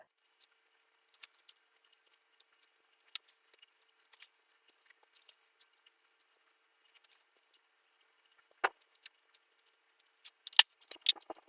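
Scissors snipping through sewing fabric along the straight top edge of a cup-shaped piece, a run of quiet, close, irregular clicks and snips that grow louder and busier toward the end, with no talking.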